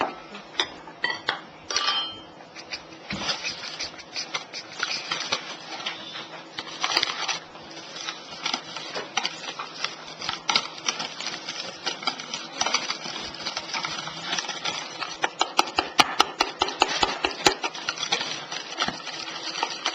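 Rapid rhythmic tapping and clicking of a utensil against a bowl as batter is mixed with whisked egg for baking, steady and close throughout with no voices.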